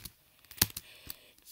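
Quick clicks of typing on a computer keyboard, several close, light keystrokes with one louder tap near the middle, alone without talk.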